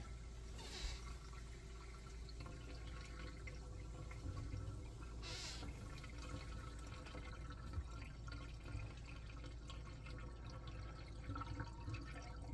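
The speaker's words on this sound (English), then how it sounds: "Water is entering the tank." Water from a gravity feed line runs into the fill port of an RV fresh water tank, a steady low trickling and gurgling flow that continues alone throughout.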